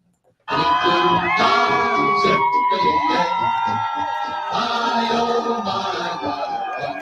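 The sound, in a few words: fans cheering at Splash Mountain's final ride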